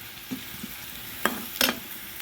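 Ivy gourd leaves being stir-fried for a thoran in a pan: a low sizzle underneath, with a few soft stirring scrapes and two sharper clattering strokes of the spoon near the end.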